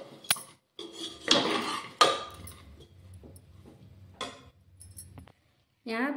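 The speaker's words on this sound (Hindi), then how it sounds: "अब हम दलिया को सब्जी में अच्छी तरह से मिक्स कर लेंगे।" Metal utensils clink and scrape against a pan as washed dalia porridge is mixed into cooked vegetables, sounding as sharp irregular knocks and rattles with quiet gaps between them, close by.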